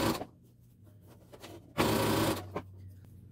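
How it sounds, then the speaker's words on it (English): A sewing machine stitching piping into a seam runs in short bursts, with one longer loud whirring run in the middle, close and clear with light handling noises between. "I don't want to sew too close to the piping on this first stitch"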